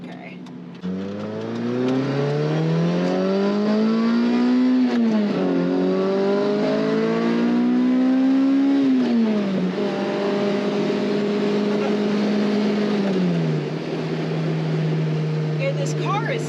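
A Lotus Elise sports car engine roars as it pulls away, pitch climbing through gear changes, loud and close before settling into a steady drone.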